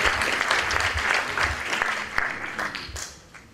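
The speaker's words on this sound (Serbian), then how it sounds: "Molim se jedan aplauz, podrži za Teodoru." A short burst of audience applause for Teodora at a training session for new associates: many hands clapping close and full, then thinning and fading out over a few seconds.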